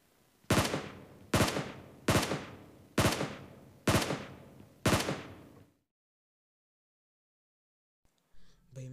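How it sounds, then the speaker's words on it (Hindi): Six sharp gunshots from the video game PUBG Mobile ring out at a steady rhythm, each followed by a brief decaying tail, then abrupt silence and a faint rustle at the end. "भाई मैंने इतनी गोलियां मारी झाड़ियों पे"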